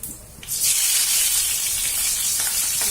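Curry leaves and green chili dropped into hot oil on a full gas flame burst into loud, steady sizzling that holds strong and close for a few seconds after the initial splash.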